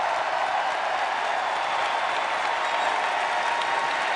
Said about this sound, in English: A convention hall on its feet, not only Bernie supporters, but Hillary supporters cheering this final speech of the evening.